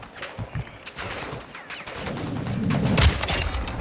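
Submachine gun fire in Call of Duty DMZ, heard as rapid bursts of shots building into dense, continuous gunfire toward the end.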